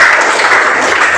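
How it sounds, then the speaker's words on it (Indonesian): Brief burst of classroom applause for a classmate, steady dense clapping from a group of students with no pauses, close and fairly loud. "tepuk tangan dulu buat temennya"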